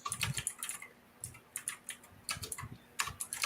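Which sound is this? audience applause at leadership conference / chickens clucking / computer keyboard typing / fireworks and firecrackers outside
computer keyboard typing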